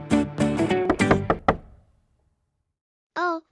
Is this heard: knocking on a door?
yes